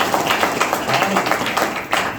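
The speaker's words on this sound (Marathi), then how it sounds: "जोरदार टाळी वाजवा" Audience clapping at a devotional bhajan performance, a steady burst of many hands applauding together, fairly close and even, with no talk over it.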